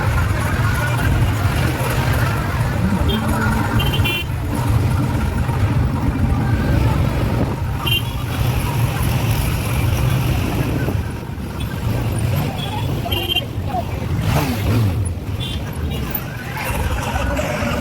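A loaded tempo van drives to a Shivjayanti drumming performance, with steady low engine rumble and road noise throughout, wind buffeting the microphone and occasional faint voices inside the vehicle.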